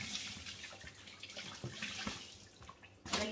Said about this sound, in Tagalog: Inopen ko yung bathtub para mamaya maliligo sila